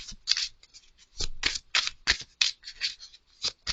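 Oracle cards are shuffled and drawn in a tarot-style reading: a run of crisp, papery riffles and slaps coming in quick bursts about every half second, close and fairly loud, with no voice.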